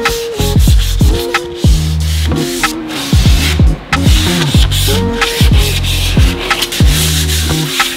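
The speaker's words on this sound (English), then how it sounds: "I need to do a light sanding on this. It hasn't been sanded yet, so I'm just gonna do that by hand" Wood is sanded lightly by hand before staining, brisk rhythmic rubbing strokes, loud and close, with quick back-and-forth scrapes throughout and no speech.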